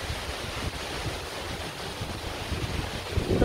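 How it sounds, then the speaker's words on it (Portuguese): The Casca D'anta waterfall, at its lower section, gives a continuous broad rushing roar of falling water, with low wind buffeting on the microphone. "linda demais essa cachoeira"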